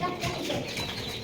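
Small and larger chickens clucking together while competing over food, a steady busy flock chatter filling the whole moment, close by with no talk.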